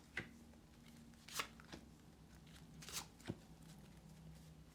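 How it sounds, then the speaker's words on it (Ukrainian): A few soft, brisk riffles and flicks of tarot cards being handled and laid out three at a time, spaced out over quiet background. "Беремо знову три карти, викладаємо."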